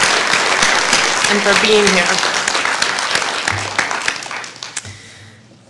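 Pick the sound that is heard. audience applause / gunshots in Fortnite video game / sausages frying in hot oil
audience applause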